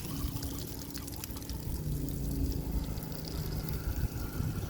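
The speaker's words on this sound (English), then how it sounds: "Now it is time to do this little outside shower I have." Water runs steadily from a small outside shower on a travel trailer or RV being winterized, a continuous near pour and splash with no talking.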